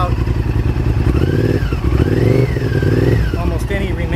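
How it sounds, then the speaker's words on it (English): A 2000 Honda VTR 1000 Super Hawk 996 V-twin idles with the choke off, a loud, steady, lumpy pulsing throb close by, with a brief rise in revs midway and a voice speaking over it. "you can see it's idling now with the choke off"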